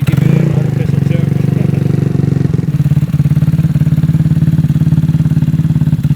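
A GY6-engined Honda Ruckus scooter idles cold while warming up, its close, loud, rapid putter thumping evenly and smoothing out after a brief stumble partway through.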